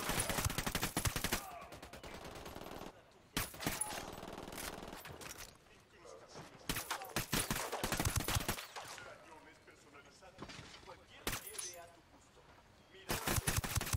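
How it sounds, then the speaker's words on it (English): Gunfire in the video game Tom Clancy's Ghost Recon Wildlands comes as loud, sharp bursts of automatic fire, repeated in several rapid volleys with brief gaps between them. "I'm opening fire on these shitheads."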